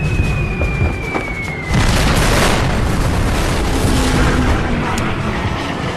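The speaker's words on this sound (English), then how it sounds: "Ferry's bombs strike aft of the battleship's superstructure." Bombs striking aft of the superstructure of the Japanese battleship Yamato during a WWII dive-bomber attack: a heavy booming blast swells at about two seconds into a sustained loud rumbling roar, with a faint whistle-like tone before it.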